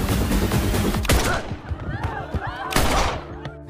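Gunshots ring out aboard a plane as an air marshal fires on hijackers in a film, a burst of sharp, loud reports with a second crack near the end amid scuffling noise.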